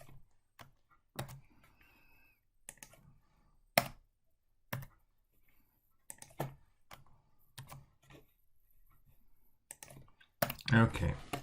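Bursts of typing on a computer keyboard during spreadsheet work come in short irregular clusters of clicks separated by pauses, with a denser flurry of keystrokes at the very end.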